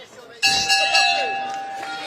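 A boxing ring bell sounds once to end a fight, a bright ringing strike that rings on and slowly fades while a commentator talks over it.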